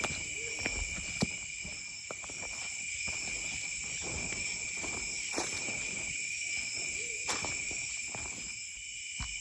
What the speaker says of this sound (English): That sounds like something trying to fucking act like an owl.